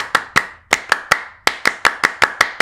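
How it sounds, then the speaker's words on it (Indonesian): An Indonesian Pramuka Scout group claps the Tepuk Pramuka pattern: about a dozen sharp, loud claps in a patterned rhythm with a brief pause partway through, close and clear with no talk. "Tepuk Pramuka."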